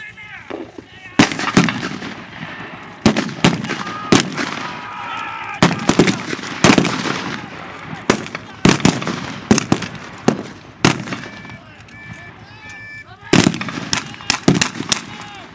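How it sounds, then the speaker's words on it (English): Blank rounds crack during a World War II reenactment battle pitting American against German troops, sharp loud shots and bursts firing irregularly, some in quick clusters, with an announcer's voice and crowd faintly in the background. "Sometimes right under gunfire in the midst of battle."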